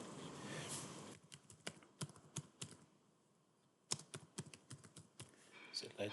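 Brisk bursts of clicking keystrokes on a computer keyboard as a folder name is typed, close and crisp with short pauses, following a moment of quiet talk at the start.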